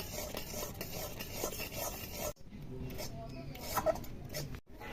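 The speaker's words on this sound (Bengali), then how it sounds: "দেখো দুধটা কি সুন্দর ফুটে ফুটে ক্ষীর তৈরি হয়ে যাচ্ছে।" Milk simmering into kheer in a pot while a spoon scrapes and stirs steadily, close and continuous, with a short break midway.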